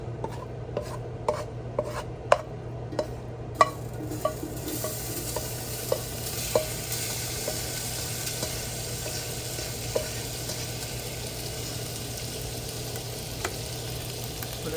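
Seasoned meat sizzles steadily in a pot of chili that is just coming to a boil, with sharp scraping clicks from stirring spaced through the first few seconds over a constant frying hiss.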